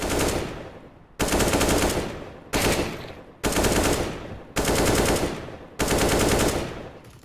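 Bursts of rapid gunfire during Counter-Strike: Global Offensive aim training, six loud, close volleys of automatic fire with brief pauses between them, each trailing off into a decaying echo.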